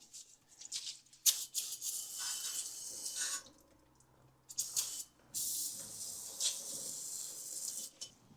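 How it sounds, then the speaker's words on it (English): Brake cleaner hissing from an aerosol can onto rear brake parts of a Honda Civic, several sustained sprays of a couple of seconds each with short pauses, close and fairly loud. "Hit this with a little bit of brake clean."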